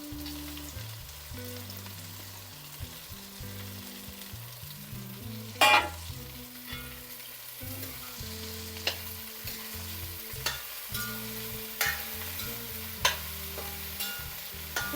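Shallots and chopped okra frying in a pan for a thoran, with a continuous close sizzle broken by a series of sharp clinks and scrapes as a spoon stirs the pan.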